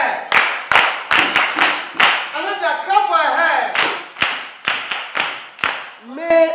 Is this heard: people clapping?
yes